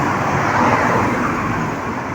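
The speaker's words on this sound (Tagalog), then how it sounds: "may mga sasakyan pa na dumadaan" Steady road traffic on a street during a typhoon, with cars and other vehicles passing continuously as a loud, broad wash of tire and engine noise and no pauses.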